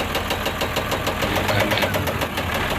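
A Fuso 6M70 truck engine knocking under acceleration, with a loud, close, rapid metallic tapping riding over a continuous mechanical roar.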